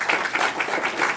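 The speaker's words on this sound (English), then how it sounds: "so just a round of applause for them too." A crowd at a feedback session event applauds steadily, dense clapping carrying on throughout the short stretch with small surges and no voices.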